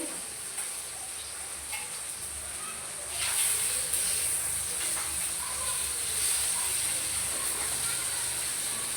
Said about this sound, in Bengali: এদিকে আমার মাছ ভাজা হয়ে গেছে, এখন আমি মাছগুলো উঠাই নিব।